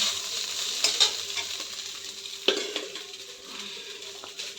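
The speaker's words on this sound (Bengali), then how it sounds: "এই দেখো এইভাবে আমি ভাত ভাজা করি" Rice being stir-fried in a pan at home, a steady close sizzle and frying hiss with a few scraping clinks of a spoon against the metal pan and no voices.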